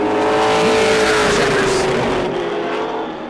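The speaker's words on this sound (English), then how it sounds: "Bill Shea coming off the corner" A Pro Late Model race car roars off the corner at New Smyrna during qualifying, its loud engine note sweeping past close by and fading slightly as it pulls away, with faint commentary beneath.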